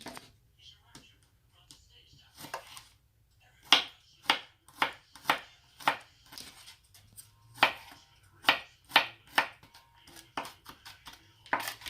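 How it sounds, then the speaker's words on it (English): A knife minces garlic on a cutting board for chicken soup, a quick series of sharp, close chops in an uneven rhythm, some fast runs of taps, heard alone without talk. "Now I'm gonna mince my garlic."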